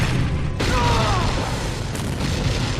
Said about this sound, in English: There's a huge explosion.